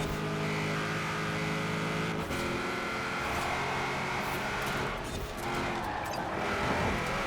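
Loud, continuous engine roar from cars accelerating and revving through a Forza Horizon 4 online race, a Cadillac limousine and a Honda Civic jostling for position, with the tone shifting through gears and no pause.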